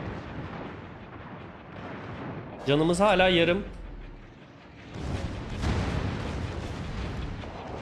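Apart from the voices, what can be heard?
rocket explosions in a naval video game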